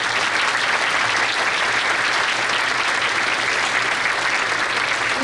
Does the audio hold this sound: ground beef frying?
no